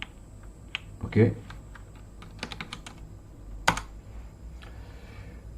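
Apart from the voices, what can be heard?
typing commands on a computer keyboard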